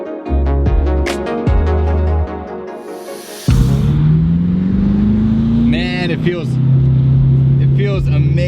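A BMW M6 with a twin-turbo V8 idles and then revs, its engine drone rising in pitch as it pulls away. The sound is loud and close, with a brief whoosh and an interior hum, and a person talks over it.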